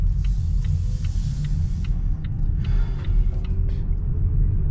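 A vehicle drives on a road toward Eckernförde on the Baltic coast, with a steady low rumble of engine and tyres, faint rhythmic clicking, and a slowly rising whine, all heard from inside with no talk.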